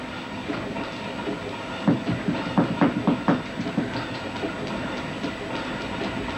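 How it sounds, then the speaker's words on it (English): Riding aboard a moving train, with a steady rumble and hiss and a quick run of rhythmic clickety-clack as the wheels cross rail joints, heard from inside the car. "Do you ever get bored riding on the train?"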